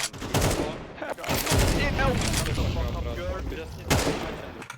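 Rapid bursts of gunfire from a competitive shooter video game crackle through most of the passage, with sharper volleys near the start and end, under steady talk from a player.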